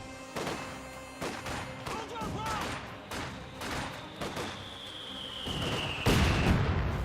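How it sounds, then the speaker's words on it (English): Artillery barrage in the Company of Heroes 2 video game, high explosive and smoke shells landing amid a battle: repeated booming impacts and scattered gunfire over several seconds, with a heavy blast near the end and a whistling tone before it. "got a high explosive and a smoke barrage"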